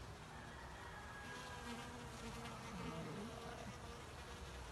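Steady buzzing of many bees in flight, a continuous droning hum that swells slightly as insects pass near, with no talking.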